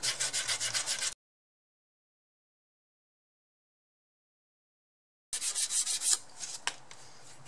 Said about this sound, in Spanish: le voy a dar un poco con lija fina. Esto es lija de 280